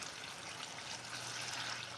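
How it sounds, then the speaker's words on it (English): Water pours into a cooking pot in an outdoor wild kitchen, a continuous splashing trickle with a bright hissy wash and a low steady hum underneath, heard alone. "I'm adding more water."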